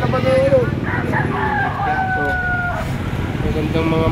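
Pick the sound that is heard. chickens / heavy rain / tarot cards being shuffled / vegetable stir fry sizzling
chickens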